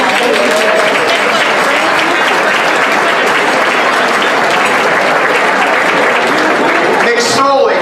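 Diners at a St Patrick's foundation dinner give Bill Clinton a loud, sustained round of applause, dense clapping filling the room with a murmur of voices underneath and a short burst of noise near the end.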